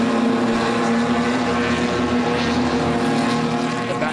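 HQ Holden race cars at Morgan Park keep up a steady, loud engine roar at full throttle, a continuous droning blare with no pauses and no voices.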